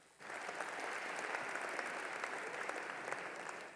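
An audience at a university commencement bursts into applause, dense steady clapping from a large crowd starting abruptly and holding evenly, somewhat distant and fairly soft, with no talking over it.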